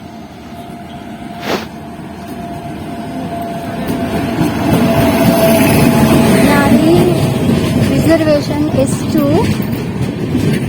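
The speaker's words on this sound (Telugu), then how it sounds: "ఇప్పుడు నా ట్రైన్ వస్తుంది చూడండి ట్రైన్ వచ్చేస్తుంది" A train rumbles into a station, growing louder and closer, with squealing brakes near the end; a short sharp knock sounds early on, and voices murmur faintly.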